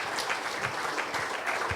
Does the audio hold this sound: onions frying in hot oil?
no